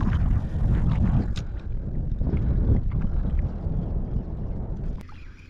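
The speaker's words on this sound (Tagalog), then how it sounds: "Hangin." Strong, steady coastal wind roars and buffets the microphone with a low rumble while fishing on Snake Island, Bolinao, easing off slightly toward the end.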